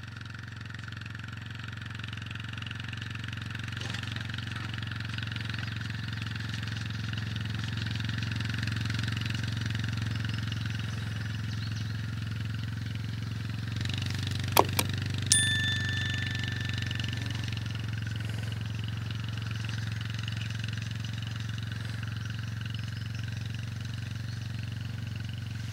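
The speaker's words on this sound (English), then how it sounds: "That's a good size four-wheeler" A good-sized four-wheeler ATV engine runs steadily on a whitetail deer food plot during seeding, a constant low drone holding for about 25 seconds, with a brief sharp clatter midway.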